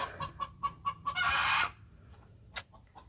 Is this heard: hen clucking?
yes